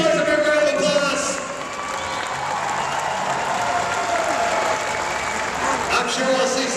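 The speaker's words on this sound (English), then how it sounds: "Let's give these boys a big round of applause." A crowd at a redneck boat race applauds the winners, sustained dense clapping with some cheering that holds steady for several seconds, with an announcer's voice over it at first.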